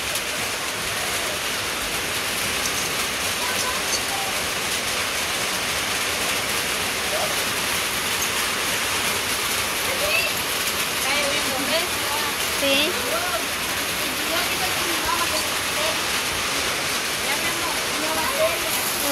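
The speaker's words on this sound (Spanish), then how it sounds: "No para de llover, miren" Heavy rain pours down without pause, a loud, even broadband roar like a waterfall lasting the whole stretch, with faint voices now and then underneath.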